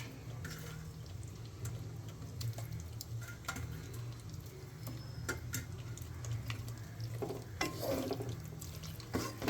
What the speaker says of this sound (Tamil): போட்டு இப்போ நல்லா வதக்குங்க